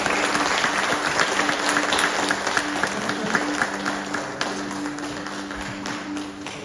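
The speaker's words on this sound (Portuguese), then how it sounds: "Pode aplaudir o Senhor?" A congregation at a Christmas church service claps steadily, a dense patter of many hands at moderate distance, with a low sustained hum beneath and a few louder individual claps.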